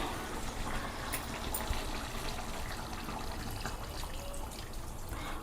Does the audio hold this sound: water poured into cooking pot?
yes